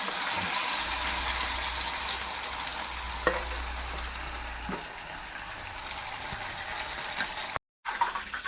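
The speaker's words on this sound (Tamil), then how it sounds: "மீனை பொரிச்சாச்சு." Fish frying in a pan gives a quiet, steady sizzle with faint crackles, close and alone, with a brief clink partway through.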